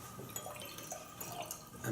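Chemistry solutions poured into a flask for a GCSE rates-of-reaction practical, giving a close, steady splashing trickle of liquid that runs for about two seconds, with no talking.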